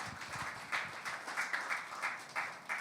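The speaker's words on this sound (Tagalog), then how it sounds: "Palakpakan nga natin ang ating Panginoon." A church congregation clapping in praise of God, a few hands striking in loose, uneven bursts, moderately close and fairly light, with no voices over it.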